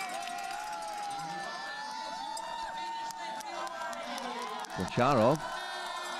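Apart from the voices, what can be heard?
crowd cheering for Russian cross-country skier at the start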